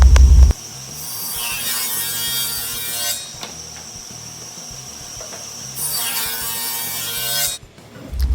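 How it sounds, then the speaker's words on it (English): A table saw cuts through scrap plywood, its motor whining up loudly and holding a steady high-pitched cutting roar across two passes before spinning down, close and alone. "Set your table saw fence up to the width of the measurement we just took and cut out 3"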